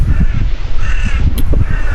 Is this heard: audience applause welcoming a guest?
no